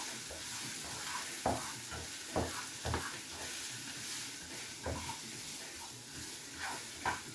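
Egg mixture seasoned with pepper being stirred in a frying pan, a steady sizzle and hiss carrying scattered scraping knocks of the utensil against the pan at irregular intervals.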